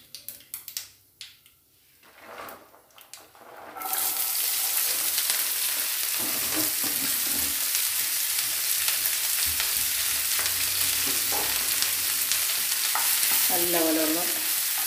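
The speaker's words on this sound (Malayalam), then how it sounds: "നല്ലപോലെ ഒന്ന് ഇളക്കി കൊടുക്കാം, നല്ലപോലെ ഒന്ന് വഴറ്റി എടുക്കാം" Beans, potato, carrot, green chilli, ginger, garlic and onion hit hot oil for a mixed vegetable thoran, bursting into a loud sustained sizzle after quiet clinks, with stirring scrapes and spatula knocks, no voices.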